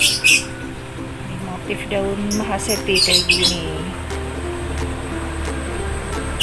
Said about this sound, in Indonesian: itu suara burung juga bunyi mulu